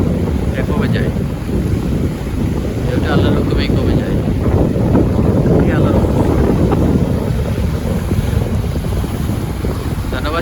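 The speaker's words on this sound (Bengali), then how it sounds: "অনেক বড় ঢেউ ঢেউটা মিনিমাম বারো থেকে চোদ্দো ফিট উঁচা" Big surf rolling in at Inani beach in Cox's Bazar: a constant loud roar of breaking waves mixed with heavy wind buffeting the microphone, and faint voices in the background.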